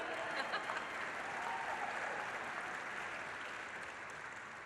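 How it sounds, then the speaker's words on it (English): A crowd at the Detroit Auto Show cheers and applauds during a presidential speech, a broad steady sheet of clapping that fades slightly over several seconds, with voices blended into it. "we can cheer for that too, I see you"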